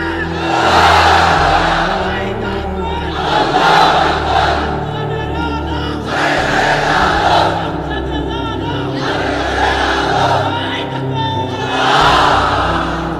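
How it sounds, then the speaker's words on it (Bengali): A large crowd at an Islamic religious gathering chants takbir in unison, loud and close, with roughly five forceful rhythmic call-and-response swells repeating every two to three seconds. "তাকবীর পড়েন তো দেখি, আল্লাহর নামে পড়েন, লিল্লাহে তাকবীর"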